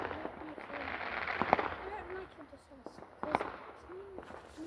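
Bonfire night fireworks and firecrackers go off in the distance, with two or three sharp bangs standing out over a steady crackle, while people talk nearby.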